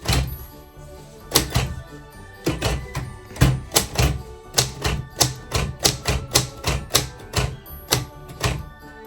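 Typing on a manual typewriter: close, loud mechanical key strikes landing in a fairly steady rhythm, each a sharp clack with a thunky body, continuing in a long run with brief pauses.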